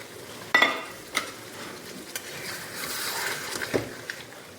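Broth goes into a pan of sizzling hilsa fish curry, with a few sharp utensil scrapes and knocks over a soft, continuous hiss that swells briefly near the end.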